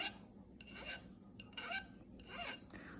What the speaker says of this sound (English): So I will file both ends.